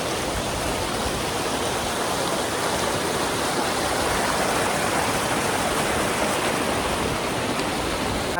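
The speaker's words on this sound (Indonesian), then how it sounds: "kita melewati juga rintangan air terjun air panas" A hot spring waterfall on the Mount Pangrango hiking trail roars with a steady, loud, broadband rush of falling water, constant and unbroken throughout with no voices.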